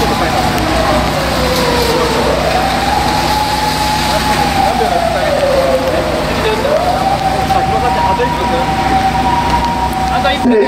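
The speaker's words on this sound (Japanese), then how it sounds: "救急車が来ましたからちょっとスイッチ切ります" An ambulance siren wails with slow rising and falling sweeps as it passes an outdoor street spot in front of the Hankyu Oasis store at Tenjinbashi 6-chome, clear and loud over steady street noise.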